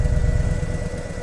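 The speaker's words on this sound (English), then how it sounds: "My favorite thing about this exhaust, I can make it quiet." A motorcycle with a switchable exhaust set to quiet mode idles with a low, steady, rumbling exhaust burble, close and moderately loud, its rhythm slightly uneven.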